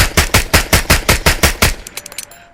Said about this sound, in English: Here, we'll just shoot it till it's empty.